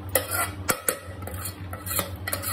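A spoon stirs leftover chicken gravy into biryani in a pot, making a steady run of scraping, clinking strokes with sharp metal taps at irregular intervals, close and moderately loud.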